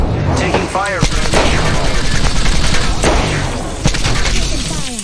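Heavy gunfire in the Halo video game, repeated loud shots and booming impacts rolling through a chaotic firefight, with sharp bursts and swept weapon sounds close by.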